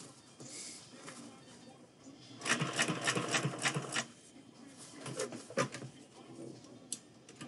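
Vintage sewing machine stitching a reworked 5-panel hat, running in bursts of rapid mechanical ticking, loudest in a sustained run mid-clip, then slower intermittent stitching with faint background noise.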